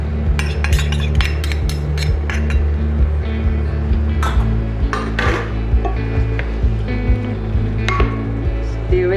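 Snow peas and shrimp being stirred with oyster and soy sauce in a pan, repeated metallic clinks and scrapes of a utensil against the pan over a steady sizzle, close and busy.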